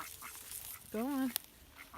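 A single duck or goose gives a short nasal quack at middle distance, brief and clear against a low garden background, while a person nearby urges the birds toward their house.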